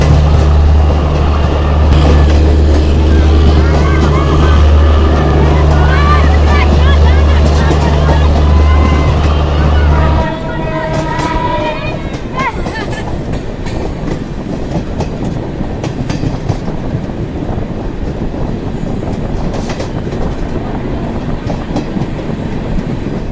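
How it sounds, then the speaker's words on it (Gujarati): The Vadodara to Jamnagar 22959 Intercity Superfast Express rumbles steadily along the rails at speed through a station, with a loud low drone, clattering and a brief horn-like tone early on, then a rougher rolling noise. "દોસ્તો આ ટ્રેન સ્ટેશનની અંદર પણ એવી સ્પીડ પકડી લે છે,"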